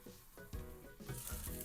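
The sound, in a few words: salmon sizzling in a lidded frying pan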